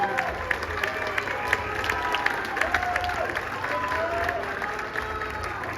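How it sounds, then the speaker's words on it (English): A live pageant audience in Hollywood gives steady, dense applause mixed with crowd noise for male contestants named to the top ten, continuing evenly throughout with faint voices underneath. "One more round of applause for these gentlemen."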